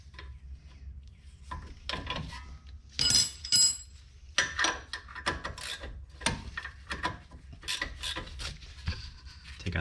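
A 14 mm wrench works a brake caliper top bolt on a Suzuki Kizashi, giving a string of close metallic ratcheting and scraping bursts in irregular rhythm with short pauses.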